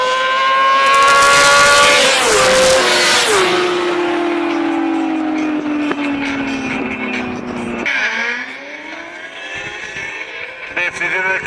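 Yamaha and Kawasaki motorcycles launch side by side in a drag race, engines screaming loudly and rising in pitch through rapid gear shifts. The shrill whine stays strong and close throughout.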